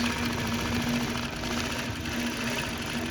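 A robotic quilting machine stitches a quilt, restitching into its previous needle holes during a repair after the bobbin runs out; a steady, continuous mechanical hum with fast rhythmic needle pulsing, close and alone.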